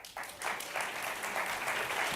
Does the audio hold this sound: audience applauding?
yes